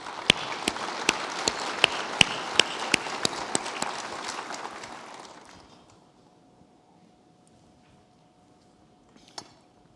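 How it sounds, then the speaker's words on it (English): A conference audience applauds, with crisp individual claps standing out over a steady patter for about five seconds before the clapping fades into near silence with a few stray claps. "Let's please give them a round of applause."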